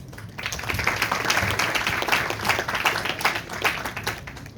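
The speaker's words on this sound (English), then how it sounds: "I would like to welcome all our honorable panelists with a huge round of applause" An audience welcomes the panelists of a cybersecurity colloquy with a round of applause, dense clapping from many hands that rises, holds steady and fills the room without talk.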